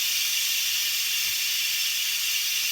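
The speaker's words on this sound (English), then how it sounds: "It's done already and we're letting the steam out." Steam hisses steadily and loudly out of an Instant Pot's pressure release valve after a taco meat cook, a constant bright rush with no talking over it.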